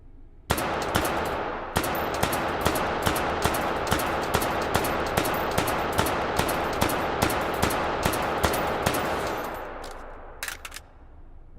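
Rapid, evenly spaced shots from a Five-seveN pistol in H3VR ring out loud and close, a long steady string of sharp cracks that stops near the end before a couple of stray pops.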